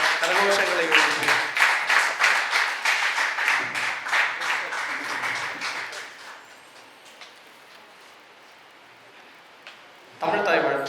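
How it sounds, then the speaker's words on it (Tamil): An audience claps for poet Thamarai Bharathi at a Tamil literary society's poetry book launch, brisk rhythmic applause for about six seconds that then dies away into near silence. "உங்களுடைய கரகோஷங்களை எழுப்பி"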